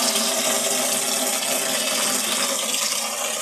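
A strong, fast stream of water gushes into a container being filled for storage, a loud, continuous rushing and splashing with no pauses.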